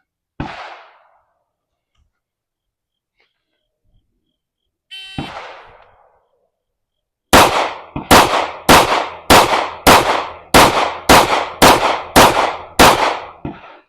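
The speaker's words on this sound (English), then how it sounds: "Man, that thing shoots good." A pistol fitted with a Romulus 3.5-inch compensator fires a 10-10-10 drill: a string of ten loud, evenly spaced sharp gunshots in rapid rhythm, preceded by two isolated bursts of noise and near silence.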